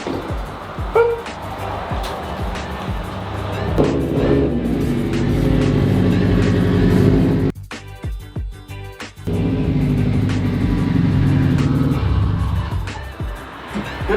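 A Subaru engine with push-button start cranks and fires inside a garage, settling into a loud, rough idle with revving, cutting out briefly and then running again.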